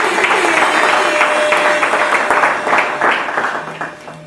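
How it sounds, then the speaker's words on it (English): An audience at a church-hosted launch event applauds in a dense, continuous wash of clapping that fades slightly toward the end. "Can we give a round of applause again?"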